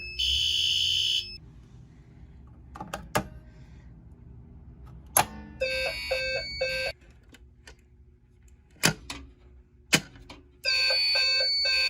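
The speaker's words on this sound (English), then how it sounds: "This is what it looks like to pull a fire alarm." A fire alarm rings after being pulled, sounding in loud, shrill electronic bursts that start and stop several times. Sharp clicks and clanks fall between the bursts against a low background rumble, and no one speaks.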